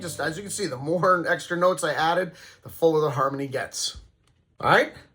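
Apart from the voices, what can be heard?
No everyday noises stand out.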